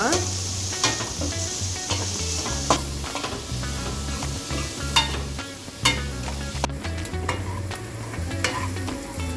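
Finely chopped onions with curry leaves frying in ghee for chicken ghee roast, a steady close sizzle broken by repeated sharp clinks and scrapes of stirring, without any voices.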